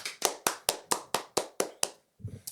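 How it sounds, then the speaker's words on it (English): Eight crisp handclaps in a steady, even rhythm for producer Lisa, fairly close and sparse, as if from just one or two people, followed by a short low murmur. "Round of applause for producer Lisa"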